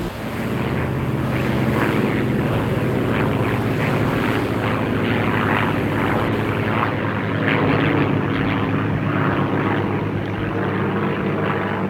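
Steady, loud drone of WWII transport aircraft engines in flight during a film airborne operation scene, a continuous propeller roar with rhythmic pulsing and no voices.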